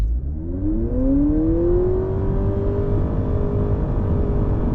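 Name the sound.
2023 Honda Accord hybrid accelerating 0-60 in sport mode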